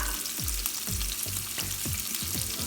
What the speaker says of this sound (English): I'm adding little onions, little potatoes, just one potato on the very high heat